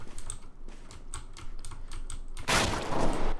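Rapid clicking taps in a quick, uneven rhythm, then a sudden loud burst of sharp gunfire near the end, in Counter-Strike.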